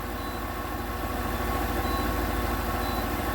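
A 1997 Ford E-150 Econoline's 5.4L engine idles with a steady, even low rumble and a faint whine above it, heard alone and close for the whole stretch.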